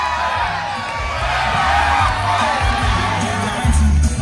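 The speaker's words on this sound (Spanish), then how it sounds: "¡Fuerte, fuerte el aplauso!" A large crowd at the Ferepa 2019 fair cheers and shouts steadily as its queen is presented, with whoops rising above a dense, loud roar of many voices.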